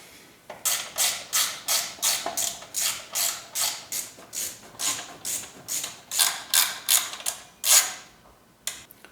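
Bolts on a Porsche 944 engine's timing belt cover are run in with a ratchet, giving a close, steady string of rapid clicking bursts, about twenty in a row, with no talking.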